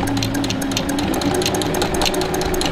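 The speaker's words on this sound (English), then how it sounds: "I don't need to use pins when I sew, and we're doing a twin needle hem" Close-up of a sewing machine stitching a twin-needle hem on a T-shirt, a rapid, even mechanical whir running steadily with no talk.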